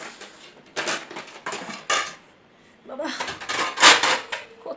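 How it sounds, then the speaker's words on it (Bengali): Pots, pans and utensils clatter and clink in several bursts as kitchen dishes are stacked and put away in a cramped space, with a voice talking over parts of it. "বাসন যে গুছিয়ে রাখতে হয় এটুকু জায়গায় সে আমিই জানি"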